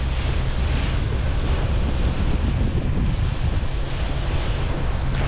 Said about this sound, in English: Look at that, the swell over there breaking over the reef.